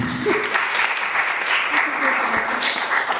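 Lecture audience applause fills the room as a steady, fairly loud patter of many hands clapping, with voices murmuring underneath throughout.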